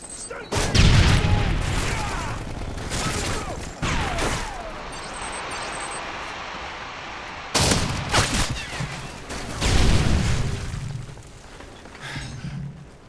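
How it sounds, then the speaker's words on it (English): Predator missile strikes and an airstrike detonate in an online shooter video game, heavy booms and crackling bursts of gunfire arriving in waves of a few seconds each, with voices chattering faintly between the blasts. "Friendly predator missile inbound. Did you get the? Yeah. Delta airstrike on the way."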